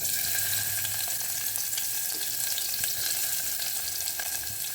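Chopped onion sizzles steadily in a spoonful of hot oil for a Malvani-style crab curry, a close, continuous crackling fry with faint stirring and no talk.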